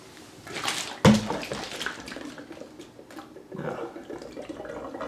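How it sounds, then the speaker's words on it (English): Water gurgles and swirls in a vortex as it drains from an upturned bottle, a sudden splash followed by a few seconds of soft, close sloshing and bubbling. "The water is spinning around, and because it's spinning, it's being thrown to the outside."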